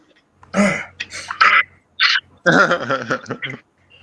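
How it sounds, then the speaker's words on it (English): Someone clears their throat several times in short, raspy bursts, close up and fairly loud, with brief pauses between. "He's clearing his throat a lot."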